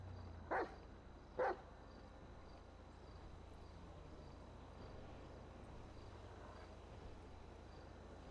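Two short dog barks in the video game GTA V, about a second apart, faint against a steady ambient bed of insect-like hum, followed by quiet background noise.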